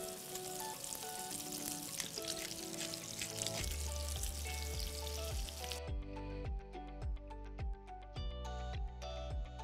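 Beef sirloin sears loudly in a hot frying pan, a steady dense sizzle with rhythmic clinks and taps over it, no voices.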